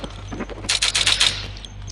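Gunfire from the video game Flag Wars sounds as a short burst of rapid, crackling shots, close and moderately loud, over a faint steady background hum.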